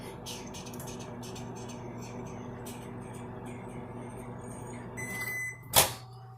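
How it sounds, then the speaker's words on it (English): A microwave oven hums steadily for several seconds while heating a lime in a kitchen, then a beep sounds and a loud door clunk follows as it opens. "stick it in your microwave for 15 seconds"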